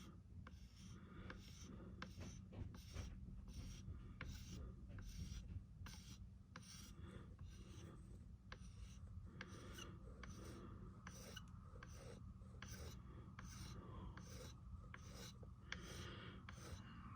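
Light, rapid rasping strokes smooth the edge of a Michael Myers figure, a soft filing scrape repeating in a steady rhythm close up for the whole stretch, quiet and unhurried.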